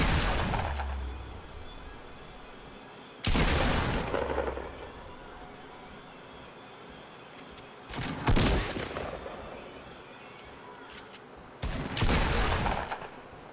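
Bursts of rapid automatic gunfire from a first-person shooter game with a thermal sight come in four loud volleys spaced several seconds apart, each a dense crackling stream over a quieter game ambience.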